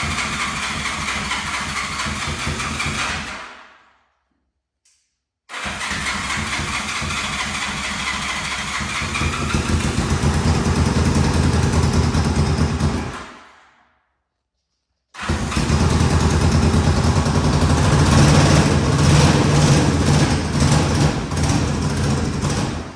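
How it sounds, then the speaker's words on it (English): Honda CB450 motorcycle being restarted after ten years in a garage: the engine fires and runs loudly in bursts, cutting out twice to silence before catching again into a rough, rumbling idle. "Just like that, we have the bike firing."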